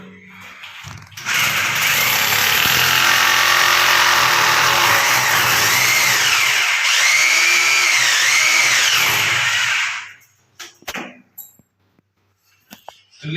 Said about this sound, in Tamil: ட்ரில்லிங் போட்டாச்சு.